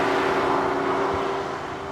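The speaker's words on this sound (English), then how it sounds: "That was the sound of the Q3 premium machine" Engine of a 2018 Audi Q3 Quattro S Line runs with a steady, even hum and a constant droning tone, loud and close, with no pauses or revving and no voices.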